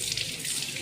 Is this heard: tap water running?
yes